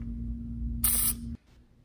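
A short hiss of Liquid Wrench penetrating oil sprayed onto the truck bed bolts of a 1994-1997 Mazda B2300 pickup, a single burst of about a third of a second over a low hum, followed by quiet.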